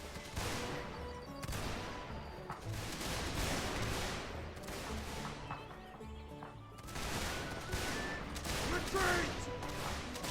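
Dense rolling musket volleys crackle and boom across a Gettysburg battle reenactment field, with overlapping shots in continuous bursts at middle distance and occasional shouting mixed in.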